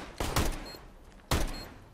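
Two sharp bursts of gunfire in the video game CS:GO, each a brief loud crack with a short decaying tail, spaced about a second apart.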